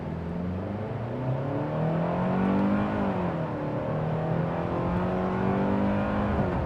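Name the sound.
Hyundai Santa Cruz SEL engine revving in sport mode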